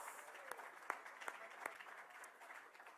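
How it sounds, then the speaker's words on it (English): An audience at the DMAi Awards 2012 claps for special award winners: faint, distant-sounding applause with a few sharper individual claps standing out, fading slightly toward the end. "a big, warm, a round of applause for all of our winners of the special awards."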